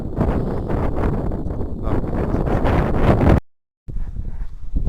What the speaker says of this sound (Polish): widać wiatr coraz mocniejszy